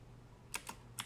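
A few quick, faint keystrokes on a computer keyboard, heard as three or four light clicks close together in an otherwise quiet room.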